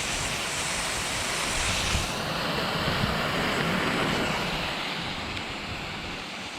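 An irrigation sprinkler head sprays water in a steady, hissing rush, continuous, loud and close, with a broad noisy texture and no voices.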